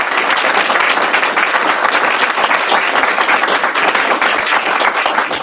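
Audience applause at a League of Women Voters candidate forum in Peoria, dense and loud continuous clapping from a room full of people, sustained evenly throughout without talk over it.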